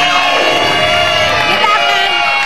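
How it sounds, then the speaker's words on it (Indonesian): Studio audience cheering and shouting for Angel Peters on a talk show, a loud continuous roar of crowd voices and whoops held for the whole stretch. "Tepuk tangan dulu buat Angel Peters."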